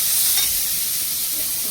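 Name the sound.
chopped onion frying in pan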